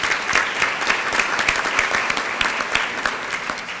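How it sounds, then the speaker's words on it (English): Audience at a 4-H leadership banquet applauds steadily, a dense, even patter of many hands clapping for a few seconds, with no voices over it. "You can hold your applause"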